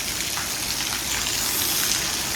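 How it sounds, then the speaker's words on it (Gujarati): Steady rain falls during the first monsoon shower, a dense even hiss of drops pattering on surfaces close by, with no voices. "આ વરસાદ પડે ને"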